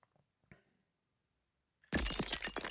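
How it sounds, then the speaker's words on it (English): In a horror video game, a vase is smashed over an undead creature's head. A sudden loud shattering crash follows near-silence broken only by a couple of faint ticks. "smashed a vase over its head, knocking it off balance"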